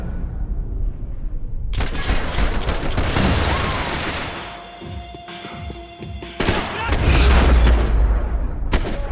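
Bursts of gunfire from Max Payne 3 crack loudly and densely, first in a long rattling stretch, then a short lull before heavy thudding shots return.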